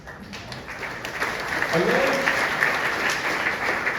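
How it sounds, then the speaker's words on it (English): A town hall audience breaks into applause that swells and holds steady, a dense wash of clapping heard from within the room. "I love applause for something that is so blindingly obvious and yet rarely admitted"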